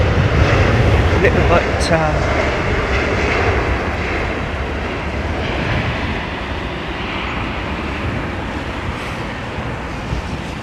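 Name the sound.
airliner landing in strong wind at London Heathrow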